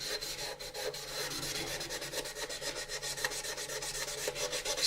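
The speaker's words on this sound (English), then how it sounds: "my model will be sanded up with 800, just like yours should be" A plastic model kit of the AMT 1983 U.S.S. Enterprise being wet sanded with 800-grit sandpaper and dish soap, a rapid continuous back-and-forth rubbing rasp, close and steady throughout without talk.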